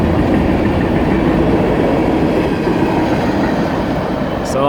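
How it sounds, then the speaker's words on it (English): A freight train rolls past beside a Wisconsin dirt-road trail near the Mississippi River, its steady, loud rumble and rattle filling the clip without a break and staying close throughout. "So long, train."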